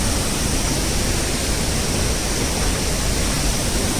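Steady, loud rushing roar of a powerful waterfall near Aamla village in Suryamal after heavy rain, a dense unbroken wall of falling water with no voices.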